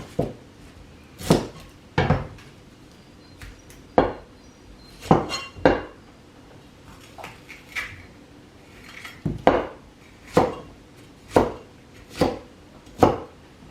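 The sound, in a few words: cutting capsicum, carrot and onion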